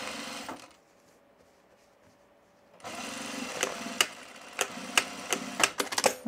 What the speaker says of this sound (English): I'm just gonna stitch my pocket section here.